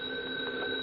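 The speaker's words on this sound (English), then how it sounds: "The phone keeps yapping all the time." A telephone bell ringing at a bar, a steady sustained electric tone heard alone and fairly clear for under a second.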